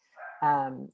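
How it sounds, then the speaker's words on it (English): A single dog bark, close and loud, a short harmonic yelp rising into a fuller woof lasting under a second. "sorry about the dog barking."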